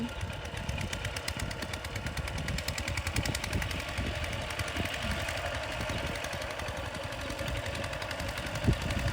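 A walk-behind tractor engine runs in a rice field, a steady, rapid mechanical chugging at moderate distance, with a brief louder knock near the end and no talk.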